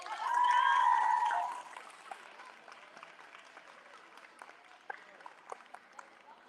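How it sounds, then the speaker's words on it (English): Applause at a college athletic banquet, with a loud, dense swell of clapping and cheering at first that thins into scattered claps, while a voice is heard near the start. "her another huge round of applause"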